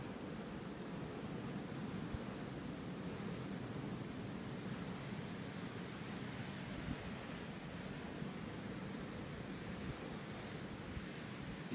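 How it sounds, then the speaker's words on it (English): Steady, roaring wind with gusts near 60 miles an hour during the 2016 blizzard in New York City, a broad unbroken rush of noise with no one speaking. "These gusts are approaching 60 miles an hour right now."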